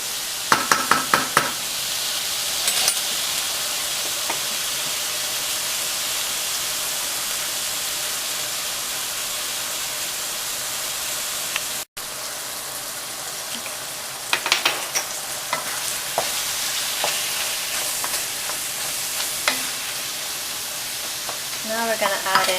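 Mapo tofu with garlic cooks in a hot pan, sizzling steadily and loudly throughout, with bursts of scraping stirring near the start and again in the second half, and one brief dropout midway.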